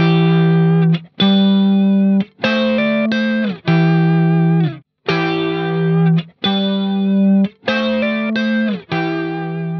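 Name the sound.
electric guitar with chorus effect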